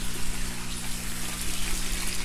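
A 500 gallon per hour pump runs in a stock-tank aquaponics system, making a dense, continuous rush of moving water over a low, steady mechanical hum.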